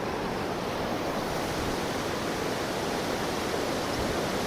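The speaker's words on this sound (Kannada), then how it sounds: "ನಾನು ಹಿಂದ್ಗಡೆ ಎಲ್ಲ ಫುಲ್ಲು ನಮ್ಮ ಕಾವೇರಿ ನದಿ ಹರಿತಾ ಇದೆ" The Kaveri river rushes over Chunchanakatte waterfall, heard from a bridge as a loud, constant, unbroken roar of churning water with no pauses.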